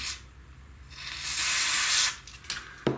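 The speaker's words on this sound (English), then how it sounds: "let's spray our contact cleaner down in here" Contact cleaner hisses from an aerosol can into a 25-inch Hantarex Polo arcade monitor, one long spray burst with shorter blasts before and after, ending in a couple of sharp clicks.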